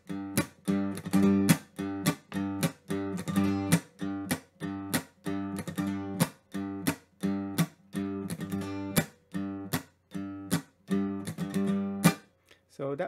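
A reel played on a plucked string instrument, with ornamental triplets on the open string; steady, evenly spaced notes ring close and alone, with sustained harmonic tones between quick repeated attacks.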